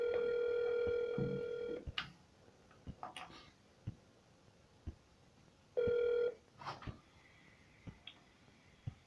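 Telephone dialing is followed by ringback tones on a sales cold call: a long steady ring tone, a few clicks and taps, then a second ring burst, all fairly faint with no talking.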